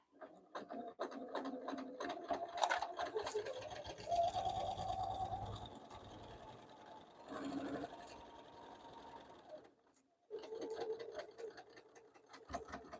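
A sewing machine back stitches a zipper pouch, its motor whirring in bursts of rapid stitching with short stops and a pause before starting again, close and moderately loud.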